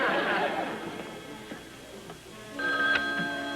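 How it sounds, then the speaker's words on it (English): An old-fashioned telephone rings in a home, with chattery voices and room noise underneath; a clear ringing tone returns near the end. "There's the phone."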